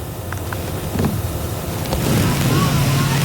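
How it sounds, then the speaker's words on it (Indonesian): Strong wind gusts with heavy rain sweep through Bogor, West Java, on a Thursday afternoon, a loud, rushing roar of wind buffeting alongside a steady downpour, swelling toward the end. "Hujan deras disertai angin kencang melanda sejumlah lokasi di kawasan kota Bogor, Jawa Barat Kamis sore."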